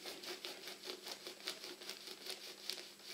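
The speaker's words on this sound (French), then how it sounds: "On prend un couteau scie et on vient couper le panini" A serrated knife saws through a crusty panini in quick, steady back-and-forth strokes, soft rasping crunches close by and fairly quiet.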